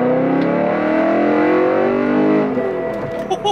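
A BMW 1 Series carrying a swapped e92 M3 engine revs hard, its exhaust rising in a loud, sustained climbing tone before the pitch drops and the engine settles back, heard up close.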